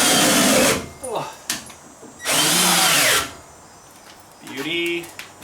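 A power drill drives screws into a leaf collector trailer during fabrication on a hot day outdoors, with two loud sustained whirring bursts of about a second each and a shorter run near the end, separated by brief pauses and occasional talk.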